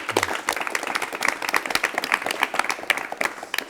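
Audience applause welcoming a guest poet onto a television studio stage, brisk scattered clapping of moderate loudness that continues steadily without voices.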